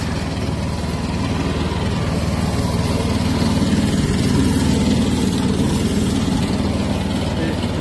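A homemade mini tractor powered by a VAZ car engine runs steadily with a constant, loud low engine drone that rises slightly as throttle is added; a voice is faintly present over the motor.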